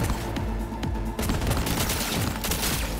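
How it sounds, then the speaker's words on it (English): Cyberpunk 2077 pistol gunfire comes in rapid three-round bursts, sharp loud cracks repeating in quick clusters with one short pause partway through and no talking. "I like the 3-round burst."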